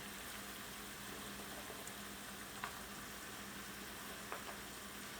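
Eggplant and squash sizzling in a pan for a summer vegetable stew, a faint, steady frying hiss with a couple of soft clicks, no talking.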